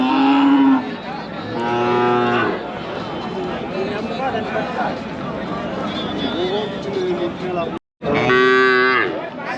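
Cattle moo loudly and repeatedly at the busy Kundarapalli cattle market in Krishnagiri, with long lowing calls near the start and end over a constant crowd murmur and voices talking throughout.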